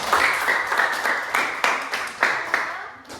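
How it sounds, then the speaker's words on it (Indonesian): Applause from a classroom audience after a student group presentation, a few seconds of scattered, uneven hand claps close by with distinct individual claps standing out, fading near the end. "Tepuk tangan dulu untuk para saudara."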